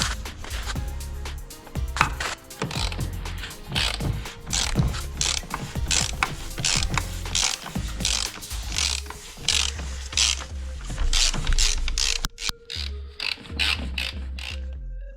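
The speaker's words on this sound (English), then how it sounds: "Grab a 27mm socket and remove the cap of the oil filter's housing." A 27mm socket on a ratchet loosens the oil filter housing cap on a BMW X3 G01, a rapid close clicking of the pawl in long bursts with brief pauses between strokes.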